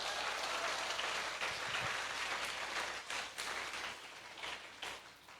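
Church congregation clapping loudly together during a sermon, a dense roaring burst of hands that fills the space, steady at first and then thinning with a few dips near the end, no talk over it.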